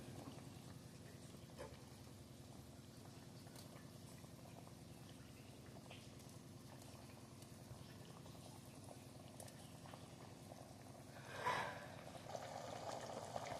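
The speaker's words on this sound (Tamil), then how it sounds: "நல்லா குழம்பு சலன்னு கொதிக்குது பாருங்கள்." Kuzhambu curry with dumplings simmers in a pot with a quiet, steady bubbling, faint and continuous, rising to a brief louder burble near the end.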